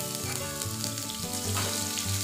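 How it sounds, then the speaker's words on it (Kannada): Chopped onion dropped into a pan of hot oil fries with a dense, continuous sizzle and crackle, close and fairly quiet, with no one talking. "ಈಗ ಕಟ್ ಮಾಡಿದ ಆನಿಯನ್ ಹಾಕ್ತಾ ಇದ್ದೀನಿ."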